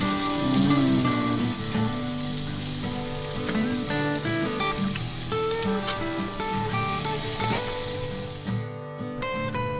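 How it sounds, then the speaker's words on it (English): Burgers coated in barbecue sauce sizzle and fry steadily on a classic Weber grill, a loud continuous crackle and hiss close up throughout, with no voices. "we are cooking some burgers"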